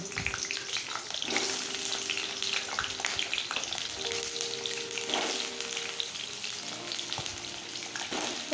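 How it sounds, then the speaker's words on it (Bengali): Potatoes frying in hot oil in a home kitchen, a steady bright sizzle that carries on without a break, with occasional louder crackles and faint clinks from the pan, and no one speaking. "তেলটা গরম হয়ে গেছে আলুগুলো আমি ভেজে নেব"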